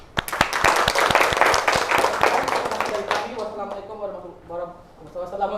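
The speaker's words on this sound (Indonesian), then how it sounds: "Beri tepuk tangan." Classroom applause after a student presentation: a brief burst of sharp, rapid hand claps from a group of pupils, fading after a few seconds as a voice begins speaking nearby.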